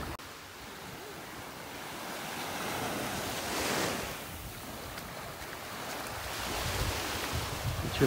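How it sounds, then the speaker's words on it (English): Ocean surf breaking on the beach at North Naples, Florida, a steady wash of waves with a louder swell near the middle and toward the end, with some wind noise over the microphone. "To listen to the waves as I walk back to my starting point here."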